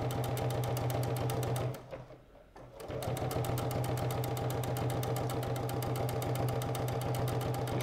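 A Bernina sewing machine stitches straight seams with a presser foot, a loud, rapid, even mechanical clatter that pauses briefly for about a second before resuming at the same steady pace.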